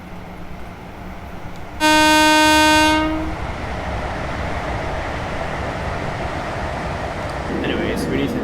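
A Class 350 electric train in Train Simulator 2020 departs London Euston, with a loud two-tone horn blast of about a second, then a steady rolling rumble and hum as it pulls away.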